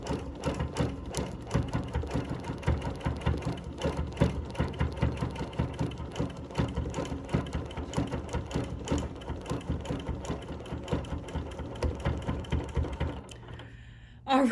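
A sewing machine running steadily as it stitches over embroidered outlines on fabric, a fast rhythmic mechanical chatter held close for most of the stretch, then stopping abruptly near the end.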